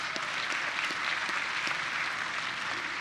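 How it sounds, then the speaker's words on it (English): Audience at a winter commencement ceremony applauds steadily, a dense wash of many hands clapping at moderate distance with no talk over it. "please give them a round of applause too"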